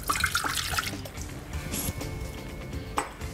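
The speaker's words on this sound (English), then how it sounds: "we're going to place the water into our TC bowl" Water for pizza dough is poured into a Thermochef mixing bowl, giving soft splashing, trickling and a few drips, fairly quiet and close, with no talk.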